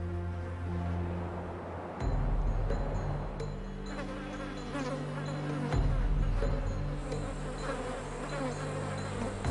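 Continuous buzzing of flies clustering on a thin lioness's open wounds by Lake Magadi, close and steady, with low rumbling ambience beneath and a few soft thumps.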